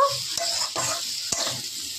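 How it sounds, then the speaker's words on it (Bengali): Fried pointed gourd and spices stirred in a hot pan give a close, soft sizzle broken by a few sharp scrapes of a spatula against the metal, with no voices. "পটলগুলোর সাথে এবার মশলাগুলোকে আবার কষিয়ে নেব।"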